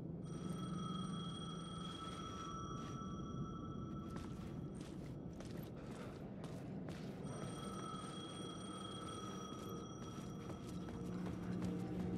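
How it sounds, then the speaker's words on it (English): A payphone rings in the video game Alan Wake 2 with a steady electronic bell tone in two long bursts separated by a pause full of clattering footsteps over a low ambient hum. "payphone was ringing. Somehow I knew the call was for me."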